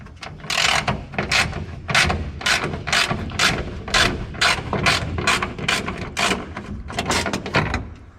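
A hand ratchet cranked in rapid repeated strokes, each pass a loud, close, sharp burst of clicking pawl teeth in an even rhythm with short pauses between.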